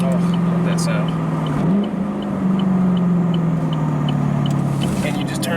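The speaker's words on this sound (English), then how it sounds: "Let me get some rev matching for you guys here." A Chevrolet Camaro SS 1LE engine revs during rev matching, a loud, close, sustained drone that dips briefly and then climbs and holds again.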